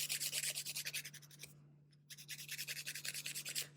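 Fingernails filed with the coarse side of a nail file, quick close rasping strokes in a steady rhythm, broken by a short pause before the rapid filing resumes, with a faint constant hum underneath.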